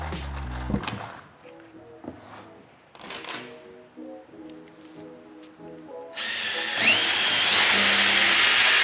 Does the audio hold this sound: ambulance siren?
no